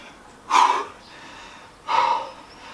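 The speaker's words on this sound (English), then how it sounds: "Oh, breathing heavily at the end of that one." Two heavy, sharp breaths after an intense home HIIT workout exercise, about a second and a half apart, close and loud with quiet between.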